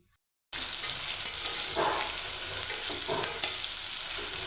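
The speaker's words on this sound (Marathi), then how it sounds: "आपल्याला दोन मिनटांसाठी हे कारले व्यवस्थित असे तेलामध्ये परतवून घ्यायचे आहे" Bitter gourd sautés in oil over a low flame with a continuous, close sizzle that starts abruptly after a short silence, broken now and then by soft stirring scrapes.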